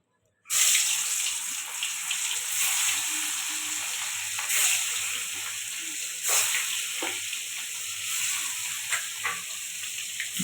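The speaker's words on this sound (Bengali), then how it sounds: "মাছটা ভেজে নেওয়ার জন্য তেল গরম হয়ে গেছে এবার মাছগুলো দিয়ে দেবো" Murrel fish sizzles in hot oil in a pan, a loud, dense crackling hiss that bursts in suddenly and continues steadily with small pops and splutters throughout.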